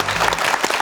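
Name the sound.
studio audience applauding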